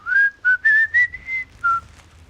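A person whistles a short, wobbly tune of several clear notes, close and fairly loud, with a faint low hum behind.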